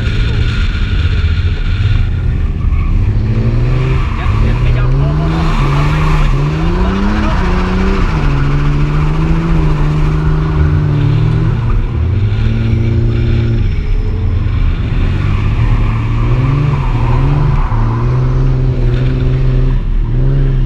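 A car being drifted, its engine revving up and down with rising and falling pitch while the tires scrub and skid through the slides, loud and continuous, with voices talking over it.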